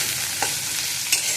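Potatoes and carrots frying in a pan with two short scrapes of stirring, over a steady soft hiss of oil; no one speaks.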